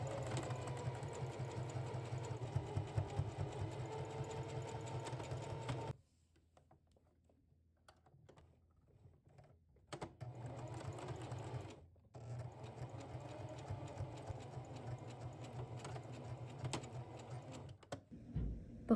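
A sewing machine stitching reusable fabric gift wrap with a 3/8 inch seam, running in steady close bursts with two short pauses.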